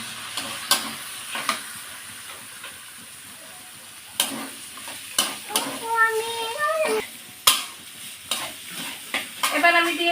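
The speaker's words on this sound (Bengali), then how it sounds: "ভেজে রাখা আলুগুলো দিয়ে আমি সুন্দর করে কষিয়ে নেব" Spice paste with fried potatoes and figs being sautéed in a pan, with repeated sharp spatula scrapes and knocks over a low sizzle. Children's voices chatter in the background.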